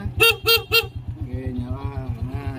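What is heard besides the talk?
Yamaha Jupiter Z motorcycle horn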